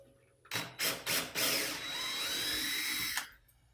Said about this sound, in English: So I have my handy power drill.